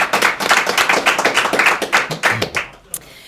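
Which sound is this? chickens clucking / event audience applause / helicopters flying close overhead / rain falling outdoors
event audience applause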